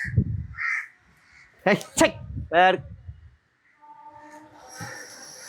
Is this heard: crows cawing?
yes